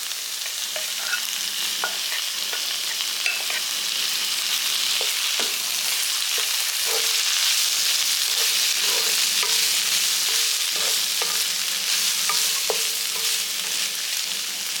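Chana dal tossed into a pan of cooked vegetables for a kootu, a loud constant sizzle with scattered spatula scrapes and taps, no speech.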